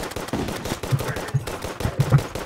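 Rapid gunfire from weapons in the Terraria video game, a series of sharp repeated shots in quick bursts, fairly loud, with no talking over it.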